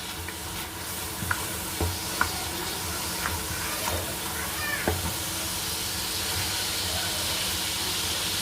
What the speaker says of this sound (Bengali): আদা রসুনটা গরম মশলাটা ভাজা ভাজা হয়ে